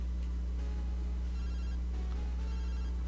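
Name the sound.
phone ringing in Pokemon Gold video game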